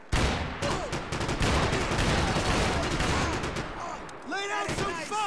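Dense rapid gunfire in the video game Max Payne 3, continuous overlapping shots and bursts at high volume, with shouted voices breaking through near the end.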